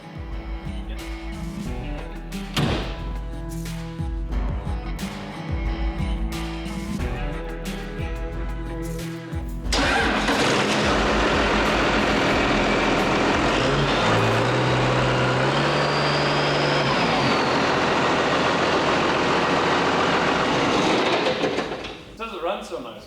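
A Case IH Maxxum MX110 tractor engine runs in a steady, loud, close rumble that swells halfway through, with a person talking over the quieter first part.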